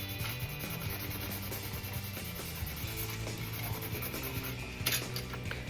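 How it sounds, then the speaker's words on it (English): Small plastic game pieces are sanded by hand with a steady, soft rubbing rasp close up, continuing without pause over a low background hum and no speech. "So let's sand them and tack them to a Gonk droid."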